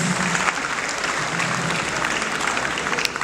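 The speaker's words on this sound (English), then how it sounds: "Please, another round of applause for him." Audience at a tech festival gives a round of applause, a loud, dense and continuous patter of many hands clapping throughout, close and even.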